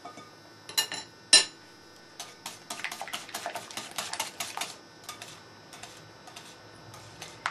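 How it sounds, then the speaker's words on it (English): Whisk beating liquid pumpkin pie filling in a bowl, a run of quick light metallic clicks and ticks, close and fairly faint, with a sharper clink near the start. "I'm actually going to go in with a whisk here."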